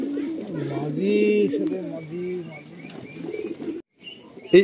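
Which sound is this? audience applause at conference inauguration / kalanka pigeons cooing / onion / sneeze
kalanka pigeons cooing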